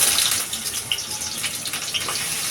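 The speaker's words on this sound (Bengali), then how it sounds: "তেলটা আমার গরম হয়ে গেছে আমি আলুটা দিয়ে দেবো" Potatoes drop into hot oil for a Bengali crab curry and begin frying. A loud, bright hissing sizzle starts at once and keeps going steadily, close and with no voices.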